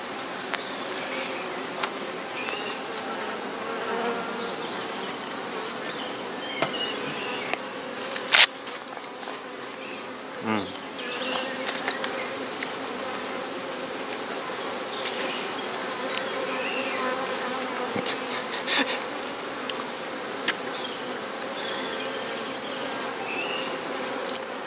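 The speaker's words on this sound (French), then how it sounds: "il reste quelques abeilles, c'est pas grand chose" Honey bees buzzing around a hive during a honey super harvest, a steady dense drone of many insects close by, with occasional small clicks and handling sounds.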